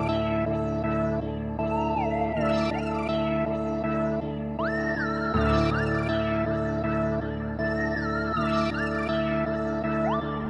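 Dark, moody sample loop built in FL Studio, layered sustained synth pads under a gliding melodic lead with echoing notes, steady and continuous with a low swell midway, no voices.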